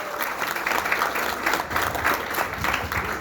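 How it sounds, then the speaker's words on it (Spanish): Loud, continuous applause from a church congregation at La Purísima prayer group gathering, a dense crowd clapping steadily throughout with no break. "Un fuerte aplauso para ellos."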